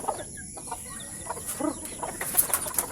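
Chickens clucking in a small backyard coop at feeding time, a mix of soft close clucks and higher chirps scattered throughout at moderate volume, no talking.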